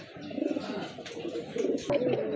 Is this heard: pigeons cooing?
yes